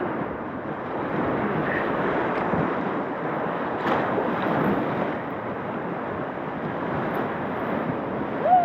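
Whitewater rapids on a Class V river roar steadily around a raft, a broad continuous rushing wash that stays close and loud throughout, with no talk.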